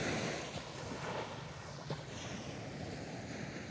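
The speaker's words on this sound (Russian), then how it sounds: "Вот я пока шла, волны сильнее были. Сейчас вроде бы как поослабли." Sea waves washing onto Karon beach in Phuket, a continuous broad surf roar with wind buffeting the microphone, fairly quiet and with no voices.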